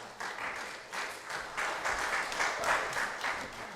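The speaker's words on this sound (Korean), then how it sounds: "자, 박수 해주세요." A small church congregation applauds during a Sunday service, a short, moderately quiet spell of clapping that pulses in uneven waves, with no voices heard.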